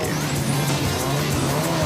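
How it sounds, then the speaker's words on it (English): Rally race cars pulling away from the start line at the Nissan Sugarbelt 400, engines revving loudly with tyre noise, one car after another close by with no talk. "there was plenty of start line activity as clerk of the course Rex Borum flagged cars away"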